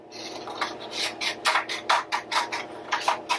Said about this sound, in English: I'm going to cut two strips right down it